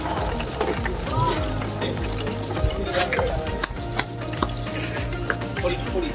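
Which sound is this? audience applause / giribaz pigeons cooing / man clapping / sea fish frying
sea fish frying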